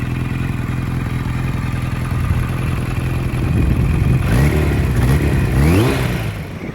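A 1983 Kawasaki KZ1000R Eddie Lawson Replica runs steadily while being ridden, a loud close engine drone that rises into several revving surges toward the end.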